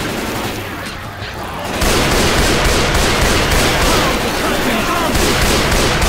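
Gunfire in Left 4 Dead 2 on the Dark Carnival campaign at Expert Realism: after about two seconds of quieter background, a loud, dense volley of shots bursts in and keeps going without pause to the end.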